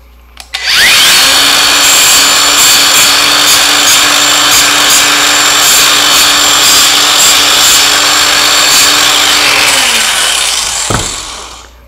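An angle grinder works on a homemade phone mount, spinning up abruptly into a loud, steady, high-pitched whine and grinding roar. It holds for about ten seconds, then winds down and stops.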